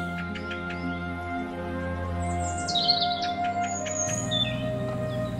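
Cattle egrets call near the Château de Lorge in January, thin chirps and squeaky calls above a steady low hum of nearby work.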